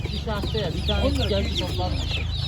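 Dense, continuous clucking and cheeping from a crowd of chickens and chicks at a poultry market in Ankara, close by, over a low background hum.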